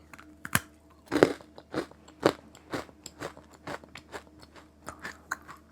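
Close, crisp crunching from someone chewing a chunky chocolate chip bakery treat, with a sharp bite followed by a string of rhythmic, crackly chews that gradually soften, and no talking.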